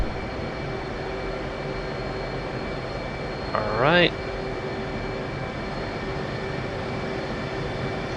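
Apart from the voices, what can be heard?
jets taking off in a combat flight simulator video game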